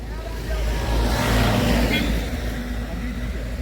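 A car engine straining in first gear up a steep climb on a road trip from Kochi to Wayanad, a steady low drone that swells slightly and then holds, with people talking over it.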